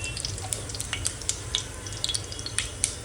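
Cumin seeds dropped into hot oil with cinnamon and clove for mutton pulao crackle and sizzle steadily, close and moderately loud, with scattered tiny pops throughout.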